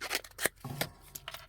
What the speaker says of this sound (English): I love using scissors, for then you can cut into the paper